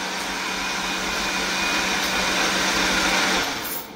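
A kitchen blender running continuously at a loud, steady whir, close up, while cooking a shrimp curry, winding down just at the end.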